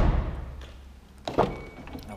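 A power window on a used Kia Optima motors briefly, followed by a couple of soft thunks as it stops, all fairly quiet and close.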